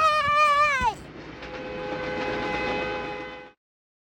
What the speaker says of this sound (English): We're going on the train today.